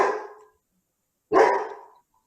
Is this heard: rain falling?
no